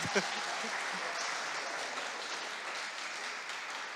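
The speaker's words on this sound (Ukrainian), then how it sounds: "Ну, плескайте, плескайте." Church congregation clapping during a baptism service, a steady, fairly soft wash of applause with a few sharper claps and a brief voice near the start.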